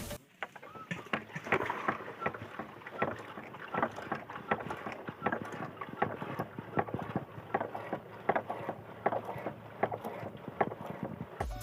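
Faint, irregular clicking and knocking from the front suspension of a Honda SP 125 scooter as it is pressed repeatedly, a rapid rattly series of close taps against quiet background noise.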